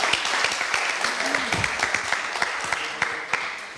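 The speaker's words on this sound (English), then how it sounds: "let's give them a round of applause this time" Parents and coaches applaud at an outdoor kids' cricket camp, steady clapping from a group mixed with scattered voices and a whistle-like tone rising briefly underneath.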